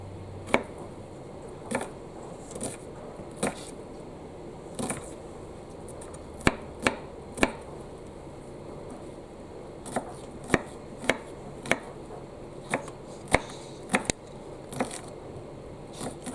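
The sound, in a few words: knife chopping a small onion on a chopping board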